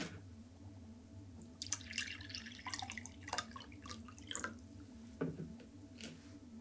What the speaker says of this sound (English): What if I poured water into a glass instead?